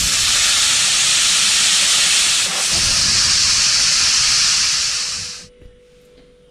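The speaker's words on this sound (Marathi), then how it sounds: "हे बघा वाफ गेली आहे, आता खोलून बघूया आपण" Steam hisses loudly and steadily from a pressure cooker while bean curry (val birda) cooks, a sustained bright rush that cuts off abruptly near the end, leaving near silence.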